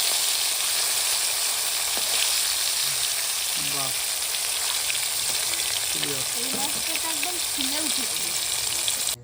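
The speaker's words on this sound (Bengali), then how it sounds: "মাছ ভাজা তেলে ফোড়নটা দেবো" Loud, continuous sizzling of fish (snakehead) frying in hot oil, with a few brief voices speaking underneath the crackle.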